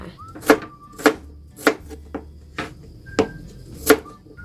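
A knife chops crisply against a cutting board, about eight sharp, close strikes in a loose, unhurried rhythm with quiet pauses between.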